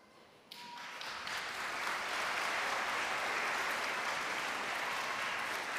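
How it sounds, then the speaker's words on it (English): A school NAIDOC assembly crowd breaks into applause after a short quiet start, swelling within a second and holding as dense, sustained clapping to the end. "if you just hold off on the applause to the end"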